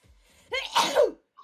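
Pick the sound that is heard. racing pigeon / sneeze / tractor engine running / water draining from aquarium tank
sneeze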